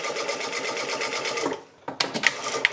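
Sewing machine stitching along a blouse yoke, running with a steady fast needle rhythm, then stopping and giving a few short clicks and knocks.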